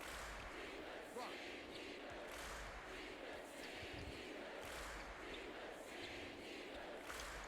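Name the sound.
crowd chants in a college basketball video game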